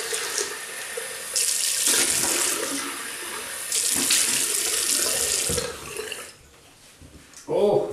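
Running tap water splashes into a sink as a face is rinsed after a wet shave with a Wilkinson Sword double-edge razor, the flow rising and falling in bursts before stopping near the end, close by.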